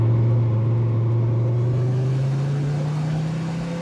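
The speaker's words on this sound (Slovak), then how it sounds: "Má brutálny zvuk z výfuku, ktorý vďaka špeciálnym reproduktorom aj zvonku pripomína zvuk V8." A deep, steady engine drone with a throaty exhaust rumble from a Škoda Kodiaq RS BiTDI biturbo diesel SUV, its exhaust note boosted by speakers to resemble a V8, holding a constant pitch as it cruises close by.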